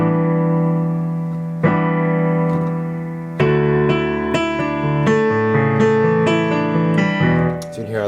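Piano playing the verse of a song, a sustained chord that gives way to a series of struck notes and chords, close and clear with no talking.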